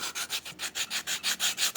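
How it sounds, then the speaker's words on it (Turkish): Wood sanded by hand with sandpaper: eleven quick, even back-and-forth rasping strokes in a steady rhythm, close and alone. "Bunların hepsini ben zımparalayacağım."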